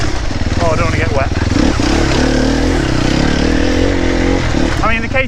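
A new dirt bike's engine revs loudly and continuously while being ridden close to the microphone, rising and falling in pitch, with the rider speaking over it at the start and end.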